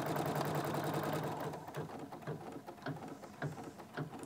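An embroidery sewing machine stitches a quilted bag: a steady mechanical whir, then a rhythmic, slightly uneven run of needle strokes, close and alone without speech.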